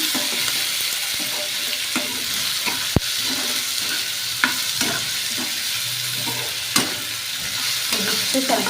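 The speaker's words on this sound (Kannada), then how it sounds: "ಸ್ವಲ್ಪ ಜಾಸ್ತಿ 1 ಟೇಬಲ್ ಸ್ಪೂನ್ ಅಷ್ಟು ಜೀರಿಗೆ ಹಾಕೋಬೇಕು. ಅದನ್ನು ಕೂಡ ಸ್ವಲ್ಪ ಫ್ರೈ ಮಾಡ್ಕೋಬೇಕು." Black pepper and a tablespoon of cumin fry in a pan, making a continuous loud sizzle punctuated by occasional spatula scrapes and taps, with no voices.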